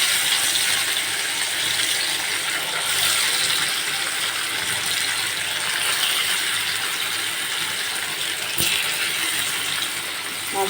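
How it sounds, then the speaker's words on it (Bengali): Fish frying in hot oil, a steady loud broadband sizzle and crackle that runs unbroken throughout, with a brief sharp clink near the end. "তো আমার তেলটা গরম হয়ে গেছে,"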